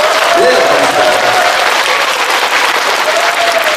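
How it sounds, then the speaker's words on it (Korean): An audience at a lecture bursts into loud, continuous applause, a thick unbroken roar of clapping that stays even in level from start to finish. "뜨거운 사랑을 하실 수 있는 분들만 뜨겁게 박수 한번 보내주십시오"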